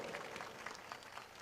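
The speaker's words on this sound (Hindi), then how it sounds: "आप जितने आयोजक लोग हैं, इनके लिए जोरदार तालियों से स्वागत करो इनको" A crowd at a gathering of tribal community members claps to welcome the organisers, a soft, dense patter of many hands that sounds distant and faint for just over a second.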